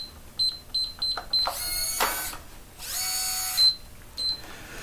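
A code lock on a porch pirate box gives a string of short keypad beeps, then two bursts of motorized whirring as the bolt drives out, followed by more beeps.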